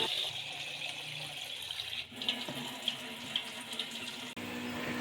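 Tap water runs steadily into a sink as 500 grams of chana dal is washed by hand, a continuous close splashing stream with brief shifts as the grains are stirred.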